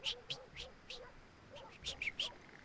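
A human voice imitates a stepped-on duck, with a rapid string of nasal, squeaky quacking honks, about eight in a row, close and fairly quiet over background noise.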